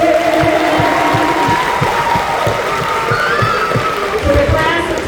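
A commencement audience claps in a steady, regular rhythm along with a sung clap-along tune. The claps are sharp and evenly spaced under a broad wash of crowd sound and voices.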